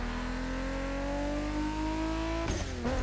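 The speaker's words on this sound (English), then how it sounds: "A little bit of street drifting with it." A Toyota Supra street drifting in The Crew Motorfest, its engine holding a loud, steady rising whine with layered harmonics, briefly dipping and shifting near the end as the car slides.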